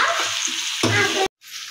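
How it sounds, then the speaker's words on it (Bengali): Spices sautéing in a pan over a low flame give a steady close sizzle with stirring scrapes, cut off by a short silence before a softer frying hiss returns. "কষানোর ওপরই ফ্লেমটা একটু লো করে খালি কষাতে হবে অন্তত 10 মিনিট ধরে"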